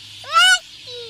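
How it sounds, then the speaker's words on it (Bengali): A single bird gives a bright, rising-and-falling whistled call lasting under half a second, fairly close and loud, followed by a quieter, lower whistled note toward the end over faint background hum. "পাখি"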